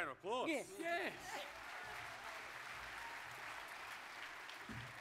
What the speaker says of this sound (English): Oh, a round of applause.